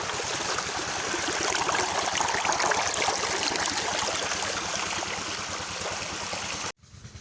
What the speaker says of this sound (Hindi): यहाँ से पानी आ रहा है।